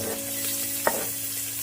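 Chopped onion frying in hot oil, a steady close sizzle with two brief scrapes of a spoon stirring the pan.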